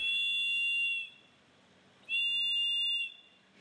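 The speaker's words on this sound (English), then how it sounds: "You'll be able to attract attention with the whistle." Two long, shrill blasts from a helicopter life-jacket safety whistle sound loud and close, each about a second long, separated by a short pause.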